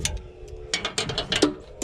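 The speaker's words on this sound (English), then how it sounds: "So I just want to start by taking the bolts out" Ratchet wrench clicking in short bursts as valve cover bolts are backed out on a John Deere 4430 tractor, several quick runs of close, crisp clicks separated by brief pauses.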